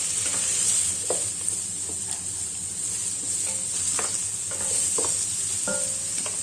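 Food sautés in butter in a pan for a beef bourguignon, giving a steady, close hiss of sizzling throughout. A spatula stirs and scrapes now and then, adding a few light clicks on top.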